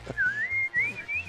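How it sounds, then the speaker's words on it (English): A person whistles a wavering tune alone, one clear continuous melodic line that slides up and down, close and fairly loud, over faint background noise during a party game session. "Oh, you're a good whistler."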